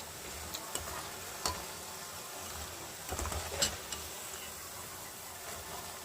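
Cabbage pakoras frying in hot oil give a steady, faint sizzling hiss, broken by a few small pops and clicks, with no talking.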